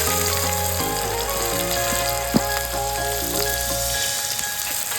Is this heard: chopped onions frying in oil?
yes